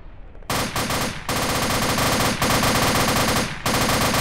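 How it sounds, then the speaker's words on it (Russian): Machine gun fire in the military video game ArmA 2, loud sustained automatic bursts broken by brief pauses, preceded by a quieter moment. "там стрельба такая, что ничего не услышит"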